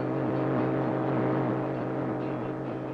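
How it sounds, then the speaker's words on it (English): Communist radio jamming broadcast aimed at Radio Free Europe, a steady droning, warbling noise of layered harmonic tones with slow repeating swoops, continuous and fairly loud, with no voices. "It is the sound of jamming."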